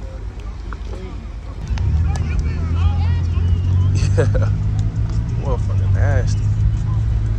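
A Dodge Hellcat at a car meet lays down a low engine rumble that swells in after a couple of seconds and holds steady, heard beneath loud nearby talk and some wind buffeting.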